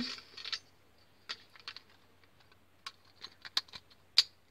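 Beyblade Burst parts snapping together by hand, a handful of small sharp plastic clicks scattered irregularly over faint rustling handling noise, close and quiet, with no one talking.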